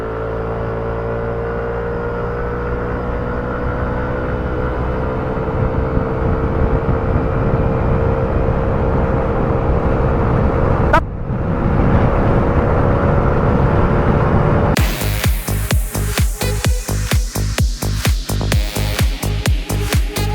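A 2025 Yamaha NMAX 125 scooter accelerating hard from standstill to 100 km/h, the engine droning steadily as speed climbs, then wind roar and rhythmic buffeting take over at highway pace.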